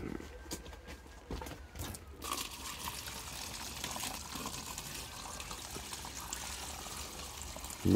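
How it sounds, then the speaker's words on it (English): Water poured into the base of a cucumber plant pot in a poly tunnel, a close, continuous trickling and gurgling stream that holds steady at moderate volume after a brief rustle at the start. "Just keep pouring it in until it gets to the base of that."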